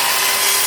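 A Festool Kapex miter saw cuts through melamine board, making a loud, steady, close whine of the blade biting into the sheet, with no pauses.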